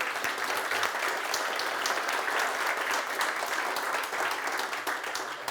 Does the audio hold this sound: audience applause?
yes